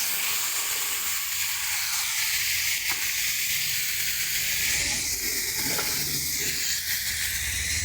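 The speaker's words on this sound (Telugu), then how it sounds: "ఇప్పుడు పచ్చిమిర్చి వేపిన అదే నూనెలో టమాటాలు వేయాలి." Small tomatoes dropped into hot oil already used for frying green chillies give a steady, close, loud sizzle and hiss that runs unbroken throughout, with no one talking.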